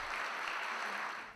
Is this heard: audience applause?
yes